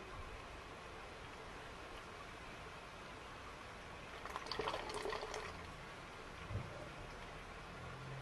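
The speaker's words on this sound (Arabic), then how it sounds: "أولا تنزل الماء، تفتح، شوف الماء نزل، تشوفونه." Water draining out of an oud oil distillation apparatus after a valve is opened, a steady soft liquid trickle and rush running throughout, swelling briefly midway with a small splash near the end.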